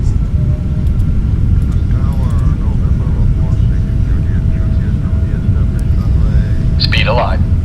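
Boeing 777 engines spool up for takeoff in a flight simulator game, a loud, steady broadband roar with a rising whine near the end, under continuous cockpit talk.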